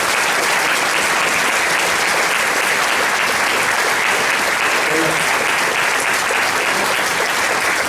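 A large audience at a lecture or speech applauds loudly and steadily, a dense wash of clapping that fills the whole stretch without a break.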